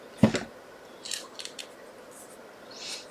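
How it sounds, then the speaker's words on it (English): Scissors snip once, crisp and close, through the end of a ribbon on a handmade card, followed by a few faint rustles and scrapes of the paper. "Just snip that over there."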